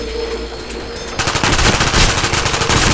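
Rapid automatic gunfire in a zombies video game, a dense loud burst of rattling shots starting about a second in and continuing steadily to the end.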